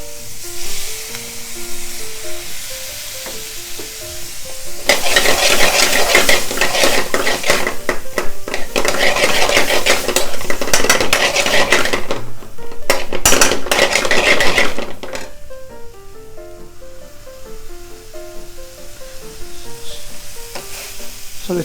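Chickpeas and tomato puree stirred and sizzling in a pan while chana masala is made restaurant style, a loud, steady frying hiss with scraping spoon strokes that swells in the middle and eases off toward the end.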